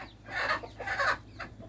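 Chickens and roosters clucking inside a backyard coop with a large feeder, several short close calls in quick succession, no talk.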